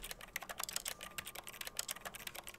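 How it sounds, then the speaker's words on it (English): Keyboard typing inside The Stanley Parable video game, a steady run of quick clicking keystrokes at a moderate level, close and continuous, with no voices. "I can't jump on it, but I can type on it"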